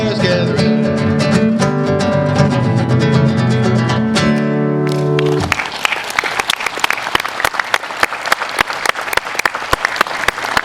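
A guitar song's last chords ring out, then at about five seconds audience applause breaks in and keeps going as crisp, moderately dense clapping from a small crowd at a guitar festival.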